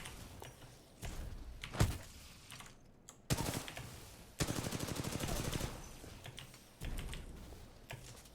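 Gunfire in Titanfall 2: several bursts of rapid automatic fire, close and loud, including a sustained rattling stretch in the middle, broken by short gaps and single heavier reports.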